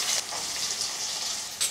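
Onions and mustard seeds fry in a pan, a continuous bright sizzle with crackling pops and a few scraping stirs of a ladle, close and steady throughout.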